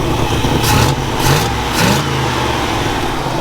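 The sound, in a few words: Chevelle car engine running with exhaust leak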